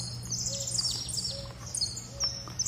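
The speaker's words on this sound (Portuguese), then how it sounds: "Como que não acorda feliz, gente, com esses passarinhos?" Small birds, canaries among them, chirp and twitter brightly in the morning, a steady run of high, quick calls over a low constant hum, with no talk.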